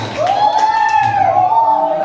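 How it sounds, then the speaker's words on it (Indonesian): An audience at a quiz-style game event cheers for a contestant named Irfan with one long, drawn-out rising and falling vocal whoop. Little distinct clapping stands out beneath it. "Tepuk tangan yang meriah untuk Irfan"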